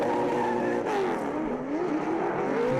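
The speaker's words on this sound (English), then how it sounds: "Just listen to these engines." Race car engines roar through a Speedweek oval race broadcast, continuous loud multi-car engine drone with pitch sweeps as cars pass and one runs along the wall, steady and close throughout.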